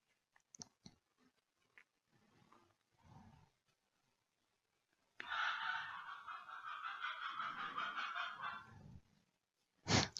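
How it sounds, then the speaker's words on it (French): A rooster crows at midday somewhere in the south of France, one long drawn-out call lasting several seconds, fairly clear against a quiet background, with faint scattered knocks before it. "Je sais pas si vous entendez, il y a le coq qui chante."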